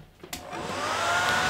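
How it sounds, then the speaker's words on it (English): A hair dryer blows steady air over freshly painted body panels of a Meng Mustang scale model, clicking on and then running in a continuous, close whoosh with no talking. "I'm just going to hit it with a hairdryer, okay, just to speed things up"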